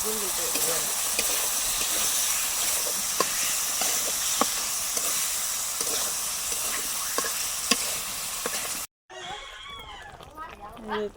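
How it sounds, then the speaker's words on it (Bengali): Pangas fish curry simmers and sizzles in a pan, a steady frying hiss with occasional stirring clinks and scrapes, then a brief cut to a different scene where a voice speaks. "পাঙ্গাসের তরকারি হয়ে গেছে পাঙ্গাস মাছ রান্না শেষ"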